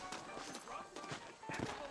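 Rhythmic hoof clops of saddled horses at a walk in Red Dead Redemption, layered over a voice speaking throughout, with a steady background ambience.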